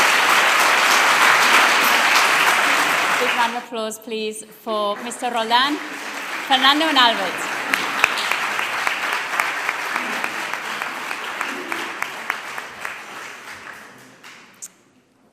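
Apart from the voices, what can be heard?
audience applause at school graduation ceremony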